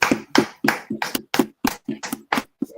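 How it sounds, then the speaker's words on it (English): A group claps for a class in about ten sharp, evenly spaced beats in unison, each clap close and crisp with brief silence between them. "Clap it up for the class."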